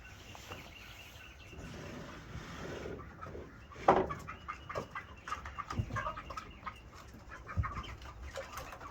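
Several chickens released from a coop clucking and squawking close by, a burst of louder calls midway followed by scattered clucks over a soft background.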